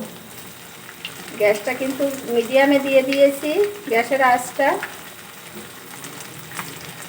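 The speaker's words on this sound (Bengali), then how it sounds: "এভাবে উল্টে পাল্টে পাঁচ থেকে সাত মিনিট ধরে ভেজে নেব" Sago pakoras deep-frying in oil and being turned over, a low steady bubbling sizzle, with a voice speaking over it through the middle of the stretch.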